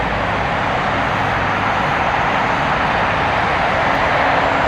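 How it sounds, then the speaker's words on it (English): A Boeing 777-200 airliner taxiing at LAX airport, a loud continuous jet engine roar and broadband rush that holds steady, with no speech. "That loud-looking 777-200, that one will be taxiing to the north."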